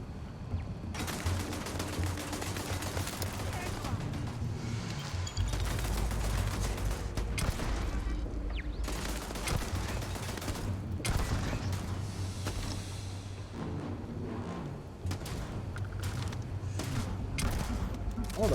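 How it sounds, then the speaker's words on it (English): Gunfire crackles in the video game Starfield, with repeated bursts of shots and rattling volleys over a rumbling background that last the whole stretch. "Someone is shooting at me."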